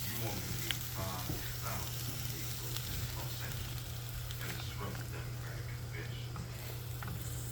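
Sugar and fresh lemon juice cooking in a pan on medium-high heat, a steady loud sizzle and bubbling that continues unbroken throughout, with a faint low hum underneath.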